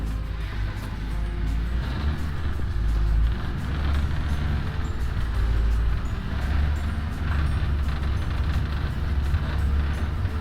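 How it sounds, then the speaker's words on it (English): A 1954 Ford Fairlane Skyliner cruising around town, its engine a continuous low rumble with steady road noise, fairly loud and close, with no voices over it. "Today we're going to take out my 54 Ford Skyliner for a little tour around town, and Shelby's going to be doing the filming"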